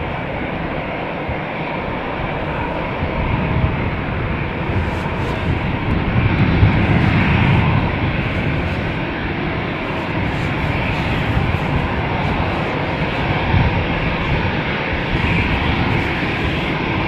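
A Boeing 787 Dreamliner airliner taxiing at Amsterdam Schiphol Airport gives a loud, steady jet engine rumble and whine that swells slightly midway and holds without letup, heard close and with no talking.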